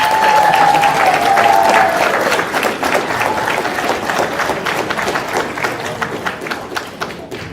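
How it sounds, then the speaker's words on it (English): Banquet audience at a high school hockey awards night applauding the seniors, steady dense clapping from a large crowd throughout, loud and close, with a faint brief whistle early on. "so if you just give that extra round of applause."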